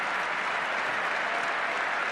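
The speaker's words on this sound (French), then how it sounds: "Et le public toulonnais l'applaudit." The stadium crowd in Toulon applauds an injured rugby player, a dense, steady roar of clapping that stays loud and unbroken throughout.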